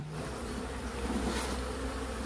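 Honey bees hum around an open hive box during an early-season inspection, an even, unbroken buzz heard up close with nothing else over it.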